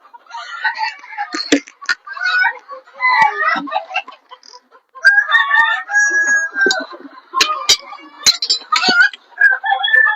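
Several chickens, part of a flock of two to two hundred fifty housed in a shed, cluck and squawk close by, with a rooster-like call, in irregular bursts and a few sharp clinks between them.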